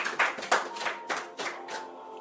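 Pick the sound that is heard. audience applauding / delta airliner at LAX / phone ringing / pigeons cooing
audience applauding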